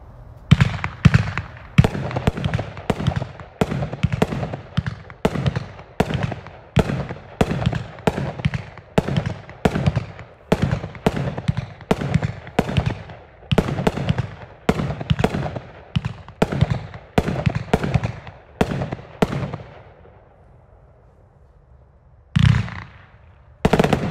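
The Winda Wings of Fire 30-shot fireworks cake with gold breaks thumps out an evenly paced string of loud booms for about twenty seconds. A short quiet gap follows, then a couple of final blasts.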